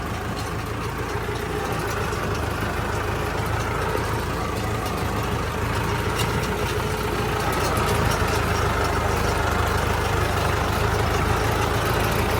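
A Turbo 595 tractor engine runs steadily on a farm near paddy fields, a continuous low rumble with a rough mechanical texture that holds at an even level throughout, with no talk over it.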